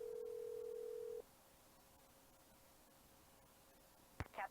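In the video game Nancy Drew: The Haunted Carousel, a phone call starts with a steady single-tone dial tone lasting just over a second, followed by quiet line hiss and a brief electronic blip at the end.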